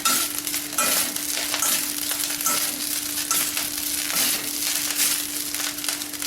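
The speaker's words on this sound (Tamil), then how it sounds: "கருவேப்பிலை வதக்கும்போது கொஞ்சம் வதக்குன்னு இருக்கும்." Curry leaves sauté in a hot pan for idli podi with a steady, close crackling sizzle and the scrape of stirring. Nobody speaks.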